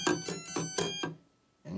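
Synth notes from a song are heard as a quick run of about five bright, bell-like plucked tones over roughly a second, then a pause before another note begins.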